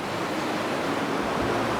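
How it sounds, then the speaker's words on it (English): Water flowing along a coast, a steady broadband rush like surf or a stream, moderately loud and continuous throughout, with no voices. "you got beautiful water flow flowing through now"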